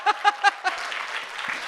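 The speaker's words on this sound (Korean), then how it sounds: "자꾸 박수 치고 그래요" A short burst of audience applause breaks out, preceded by a few separate spoken syllables, and then settles into a steady patter of clapping from a crowd at a lecture.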